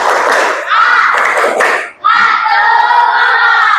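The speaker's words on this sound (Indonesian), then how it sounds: "Tepuk semangat dulu. Tepuk semangat." A class of children in a sixth-grade classroom doing a rhythmic clap cheer, their voices chanting loudly together with claps, close and energetic throughout.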